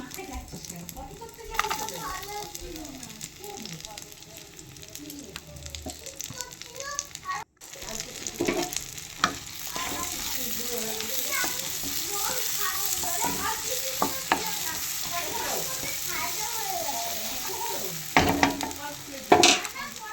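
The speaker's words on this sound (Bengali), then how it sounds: "ভালো করে নেড়ে নেওয়ার পর পেঁয়াজ কুচিগুলো লাল লাল করে ভেজে নেওয়ার পর" Chopped onions with whole garam masala fry and sizzle steadily in a pan while being stirred, a continuous close crackle broken by scraping strokes and a brief pause, with faint voices in the background.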